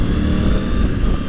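A 2023 Triumph Tiger 900 Rally Pro motorcycle engine drones loud and steady at a constant speed, a dense rumble with no pauses.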